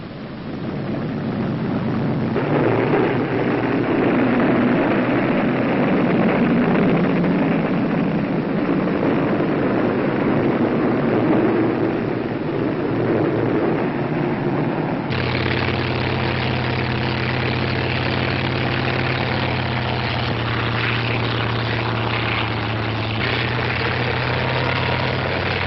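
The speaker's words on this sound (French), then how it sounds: "Les avions allemands volent en rase-motte au-dessus du territoire ennemi." German propeller aircraft flying low overhead, a steady loud drone of heavy engines holding throughout with a deeper engine tone taking over partway, no voices.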